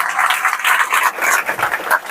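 Audience clapping at a Teachers' Day celebration in a free coaching institute in Bhagalpur: dense, uneven applause fills the whole short stretch at a steady, fairly loud level with no talk over it.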